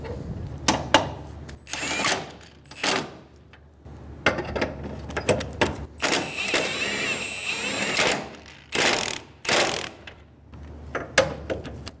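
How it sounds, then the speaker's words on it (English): A hand ratchet clicks in repeated short bursts while snugging down engine mount bolts on a 2000-2007 Ford Focus 2.0L L4, close and loud, with brief pauses between runs of rapid clicking. "Snug down the bolts."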